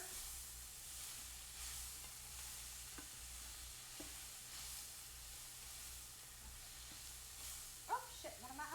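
Onions sautéing in a pan while being stirred, a faint, steady sizzle with occasional scraping of the utensil and a few louder clatters near the end.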